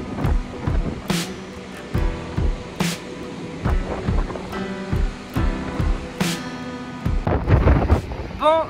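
Strong, gusty wind sweeps across a rooftop in Essaouira, Morocco, battering the microphone in loud, rumbling surges that rise and fall every second or so.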